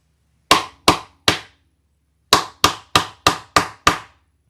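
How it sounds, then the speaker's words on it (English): Hammer blows on a metal rivet setter fixing leather rivets, struck on a separate block instead of a tabletop: three sharp, ringing strikes, a pause, then a run of six more, close and loud. "So I pounded on this thing instead of my table."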